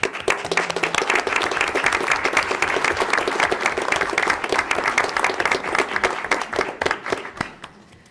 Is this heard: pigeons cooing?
no